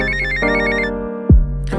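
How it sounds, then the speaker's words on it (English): A telephone ringtone melody is built into a hip-hop track, its bright electronic tones ringing in short repeated phrases over heavy bass with a quick falling swoop partway through. "I'm buzzing, that's why they all ringing my telephone"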